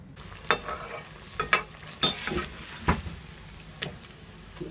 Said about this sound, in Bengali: কাঁকরোলগুলোকে এভাবে চুবিয়ে তেলের মধ্যে দিব